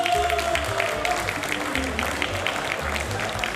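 Lawmakers in the National Assembly plenary hall applaud and cheer a newly appointed minister, with steady clapping and scattered shouts running under a person talking.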